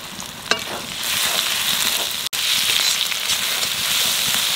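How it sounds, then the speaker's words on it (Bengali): Chili paste, spices and tomato fry in a pan, a loud continuous sizzle with occasional stirring scrapes and one brief dropout, no voices. "লঙ্কা বাটা, মশলা ভালোভাবে ভাজে নিছি"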